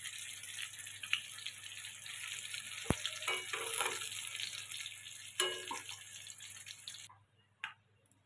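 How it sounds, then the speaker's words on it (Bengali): Bhetki fish pieces frying in mustard oil in a wok, a steady close sizzle with occasional louder spatters and a sharp clink, then the sizzle cuts off abruptly near the end, leaving a brief knock and quiet. "কড়াতে সর্ষের তেল দিয়েছি, ভেটকি মাছগুলো এবার ভেজে নেব"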